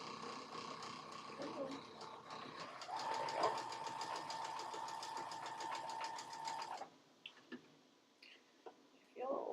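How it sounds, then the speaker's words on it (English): A sewing machine stitches quilting cotton pieces together in a steady, fast, continuous whir for several seconds, then stops, leaving a few scattered clicks and handling noises. "Sew those over together."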